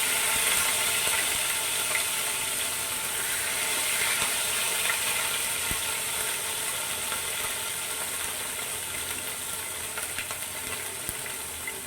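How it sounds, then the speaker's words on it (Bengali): Ginger garlic paste sizzles hard in hot oil for a rohu fish korma, a dense, steady, close frying hiss that runs unbroken and loud with no voices. "আদা রসুন দেওয়ার পর একটু তেলটা ছিটকাবে, একটু সাবধানে।"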